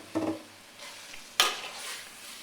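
Karela qeema with tomatoes is stirred in a sizzling pan: two scraping stirs of the spoon, one early and one sharper midway, each followed by a soft hiss that fades back to quiet frying.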